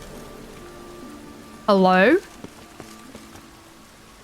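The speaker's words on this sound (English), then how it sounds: "It is raining." Steady rain falls in The Witcher 3: Wild Hunt as a soft, even patter that continues throughout, briefly overlaid by a single short spoken word.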